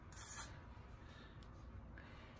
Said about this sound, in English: I'm just going in with my Got to Be Glue spray and spraying that around my edge area